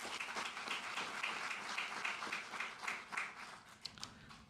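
Applause for Astrolab at a NASA news conference, a steady patter of many hands clapping from a small audience, moderately distant, fading toward a few last claps.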